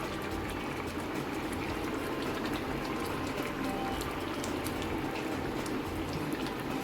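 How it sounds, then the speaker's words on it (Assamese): A pot of Assamese fish tenga curry with dhekia fern greens bubbles under a lid, a soft, steady simmer with faint popping bursts, heard alone. "এয়া মাছৰ টেঙা জোল উতলি আছে ঢেকীয়াৰ সৈতে"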